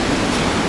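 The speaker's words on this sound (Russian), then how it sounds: "Море." Sea waves wash onto a beach at Mamaika in Sochi near a breakwater, a brief, loud, steady broadband surf wash with no voices.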